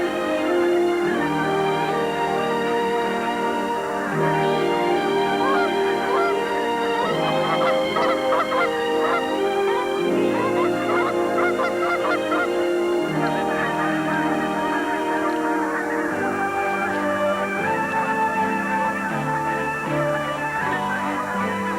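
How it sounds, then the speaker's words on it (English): Wild Canada geese honk in a large flock, a continuous overlapping chorus of loud nasal calls layered over one another, steady throughout without pause. "the vast skies echo with the ancient call that beckons the wild birds to their nesting"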